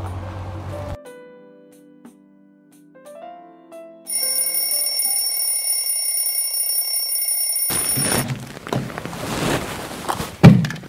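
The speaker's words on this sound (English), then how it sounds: "I set the alarm because I know you would definitely wake up late." An alarm clock rings with a steady, high electronic tone that lasts several seconds after some soft thumps and quiet chimes, then cuts off into rustling and movement noise.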